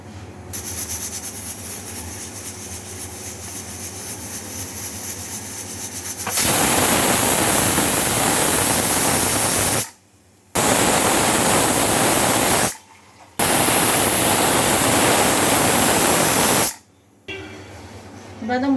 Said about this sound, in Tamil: இதை வந்து நம்ம பேஸ்ட்டாக அரைச்சிட்டு வந்துடலாம்